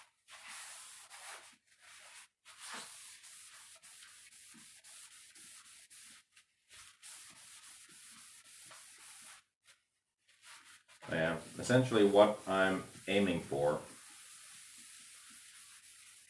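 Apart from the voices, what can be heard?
scuff sanding a surface before clear coat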